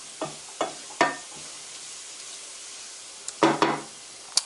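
Oil crackles and sizzles in a pan while cooking channa dal, with a few sharp spits and pops spaced apart over a faint steady hiss, close by.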